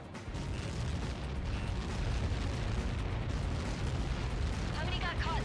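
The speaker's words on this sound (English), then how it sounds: "How many got caught in that explosion?" An explosion in the Ace Combat 7 video game: a heavy, sustained roaring blast rumbles for the whole stretch, loud and dense, with speech-like radio chatter mixed in.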